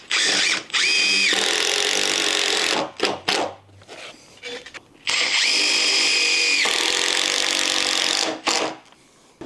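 A power drill drives screws through a deck frame into metal brackets over a concrete slab, with two long, loud whirring runs separated by short bursts and clatter of handling.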